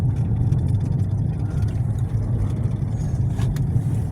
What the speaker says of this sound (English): the truck cutting the grass up here